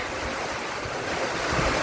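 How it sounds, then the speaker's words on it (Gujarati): A steady, broad roar of strong wind during heavy rain in a village in Jasdan taluka fills the clip, with gusts buffeting the microphone; no voices and no distinct rain patter stand out. "જોરદાર પવન પણ સાથે જ છે"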